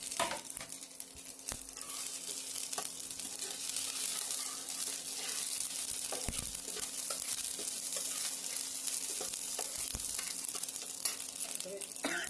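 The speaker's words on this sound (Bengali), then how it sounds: "দিয়ে দিলাম একটু মৌরি, টেম্পারেচারটা কমিয়ে একদম কম আঁচ করে দেবো। একটু শুকনো লঙ্কা আর আদা।" Fennel seeds, dry red chilli and ginger frying in oil in a pan over low heat for a guava chutney, giving a steady close sizzle with occasional stirring clinks and scrapes and no talk.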